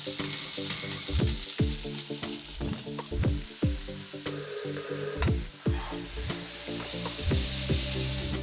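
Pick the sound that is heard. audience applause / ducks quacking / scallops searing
scallops searing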